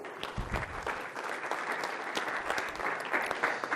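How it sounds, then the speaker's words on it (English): Steady applause from a conference audience at a tech education panel session, dense continuous clapping that fills the hall, fairly loud and without talk over it. "one more round of applause to make these guys feel comfortable"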